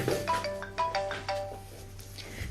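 A mobile phone plays a repeating melodic ringtone for an incoming call, moderately loud against a quiet indoor background, with no one speaking over it.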